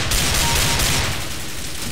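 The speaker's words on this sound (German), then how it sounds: "Das war jetzt keine gezielten Schüsse, aber es hat geklappt." Rapid gunfire in a video game, played in an Arms Race match, rattles as a loud, dense burst of overlapping shots that tapers off slightly toward the end, with no speech.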